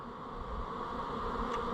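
A troubled colony of honey bees with laying workers hangs on the outside of a hive box. Their continuous buzz holds a steady, dense drone throughout, close and even, with no voices.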